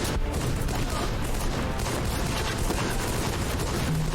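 Sustained gunfire in the Guns Up! video game, a dense continuous roll of shots and blasts that holds steady for the whole stretch.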